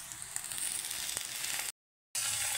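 Crushed garlic, ginger and washed cabbage leaves sizzle steadily in a hot pan, a close, continuous frying hiss with a brief gap of silence before it resumes.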